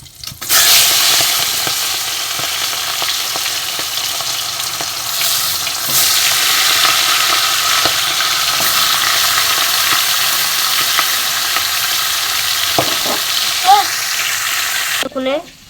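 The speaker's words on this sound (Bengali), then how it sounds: "এর মধ্যে একে একে মাছের মাথাটা দিয়ে দেবো।" Rohu fish heads frying in hot, smoking oil give a loud, steady sizzle that crackles on throughout, with a few clinks and stirring noises close by and no talk.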